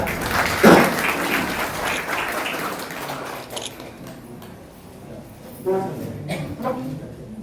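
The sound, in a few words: audience applause at retirement felicitation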